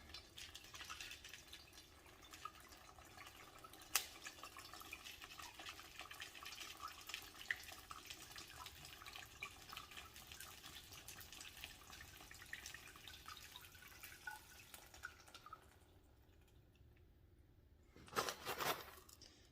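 Excess water trickles and drips steadily out of a rock tumbler barrel holding amethyst, quiet and close, tapering off, then a brief louder splash near the end.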